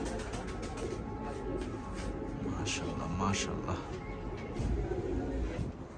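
Pet pigeons, a pair of glossy-coloured fancy birds for sale, coo softly and repeatedly close by while someone talks over them throughout.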